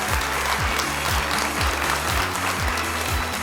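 Applause from the studio audience at the Got Talent Armenia 2026 final rolls on steadily, loud and close, over a rhythmic pulsing music bed.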